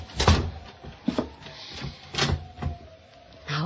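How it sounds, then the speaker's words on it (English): A closet door shut in an old-time radio mystery drama, heard as a string of sharp knocks and thumps at close range, with no voices. "and closed the door."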